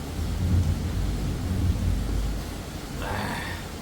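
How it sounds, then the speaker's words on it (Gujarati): Monsoon rain pours outside with low rumbling thunder, a dense steady wash of noise with a deep roll underneath, and a faint voice near the end. "વરસાદ એવો આવે છે"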